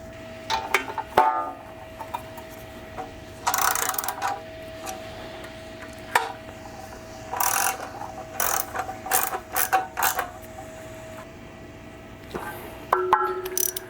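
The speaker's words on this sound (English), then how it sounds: "Now we just get the windage tray bolts put on." Ratchet wrench clicking in short bursts as it tightens windage tray bolts on a 1970 Corvette small-block 350 engine during a rebuild, with sharp repeated clicks separated by brief pauses and a faint steady hum behind.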